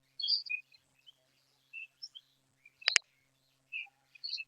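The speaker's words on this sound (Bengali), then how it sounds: "পাখির ডাকছে, সুন্দর বিকাল।" Birds call in a quiet afternoon jungle setting beside a resort, with sparse high chirps and tweets spread through near-silence and one sharp louder call in the middle.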